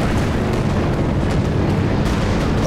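A barrage from several Soviet B-4 howitzers in the strategy game Company of Heroes 2, on the Lienne Forest map: a dense, unbroken roar of heavy explosions rumbles loudly throughout, with shell bursts piling on one another.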